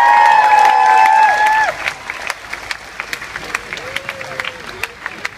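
Crowd applause and cheering at a public gathering in Manchester, a loud dense burst of clapping and whoops that drops quickly and thins into scattered claps.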